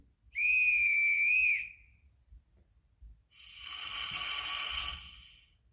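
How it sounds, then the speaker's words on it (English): A sharp, high-pitched conductor whistle from a model locomotive's sound decoder blows steadily for about a second, followed by a softer hiss of released air, with faint mechanical rumble underneath. "which is the conductor whistle"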